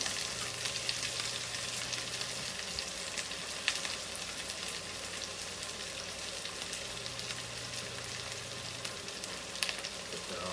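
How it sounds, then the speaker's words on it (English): Scallion, onion, garlic and thyme fry in a pan for ackee and saltfish, giving a steady, close sizzle with crackling pops throughout and a low hum in the background. "So now, scallion, onion, garlic, thyme. I'll caramelize that a little bit down."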